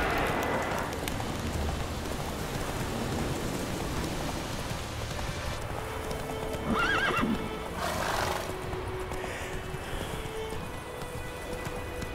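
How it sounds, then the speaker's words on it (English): In a video game, a horse whinnies loudly with a rising neigh over continuous hoofbeats and steady rain, the clip-clop and downpour filling the whole stretch. "Whoa there, Roach."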